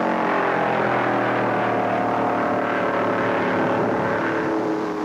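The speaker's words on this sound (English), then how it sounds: "Fender to fender, the two Fords battle it out for second place." 1957 NASCAR Ford convertibles racing fender to fender on the Daytona beach course, loud sustained engine roar with a rising and falling pitch as the cars run close together, no voices.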